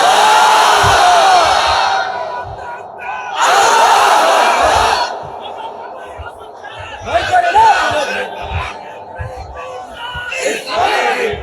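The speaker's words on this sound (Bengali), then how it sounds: "বিবাহিত ভাইরা তাকবীর দেন" A crowd of married men at a Jamaat-e-Islami rally in Alamdanga loudly shouts the takbir in repeated bursts, with several surges separated by quieter chatter and a speaker's voice.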